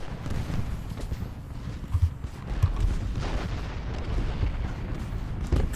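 Union artillery in Ultimate General Gettysburg rumbles as a continuous low, booming barrage, with a few heavier thumps standing out from the dense distant cannon fire.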